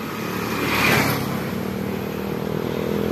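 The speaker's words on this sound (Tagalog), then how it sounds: "Daming motor" Motorcycles pass along a road on Sibuyan Island, Romblon, with a loud engine swelling briefly as one goes by amid steady traffic rumble.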